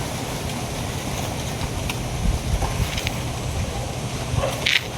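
Strong wind buffets the microphone beside a main road while waiting for transport, a dense continuous roar with gusty swells and faint passing traffic beneath.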